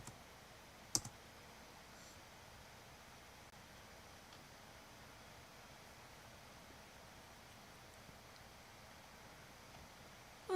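Sparse keyboard typing during a Sims 4 game session: a single sharp click cluster near the start and a few faint taps later over steady low hiss, ending with a louder burst.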